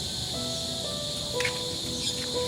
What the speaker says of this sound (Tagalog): tunog ng tawag sa amin sa Bisaya, gangis eh.